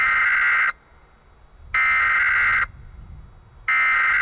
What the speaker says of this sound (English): The two most obvious alarms are the external speakers and the classroom telephones.